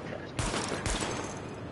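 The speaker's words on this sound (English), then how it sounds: "Up and fire at the highlighted targets." Two sharp gunshots ring out at a firing range in The Division, evenly spaced and fairly close, fired at highlighted targets over a low background.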